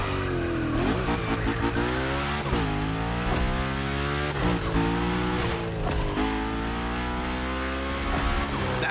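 Car drifting and sliding on its tires in The Crew racing game during a gymkhana event, with repeated tire squeals and engine revs rising and falling in long sweeps over a steady engine drone.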